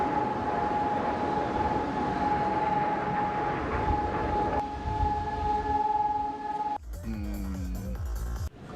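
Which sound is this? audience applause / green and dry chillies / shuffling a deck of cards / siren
siren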